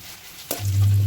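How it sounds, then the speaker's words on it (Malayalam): Cashews and raisins dropping into hot oil in a pan, a brief soft onset then a sharp sizzle that swells and holds loud and close. "ഇനി നമുക്ക് അണ്ടിപ്പരിപ്പ് മുന്തിരി ഇട്ടൊന്ന് ഫ്രൈ ചെയ്തെടുക്കാം."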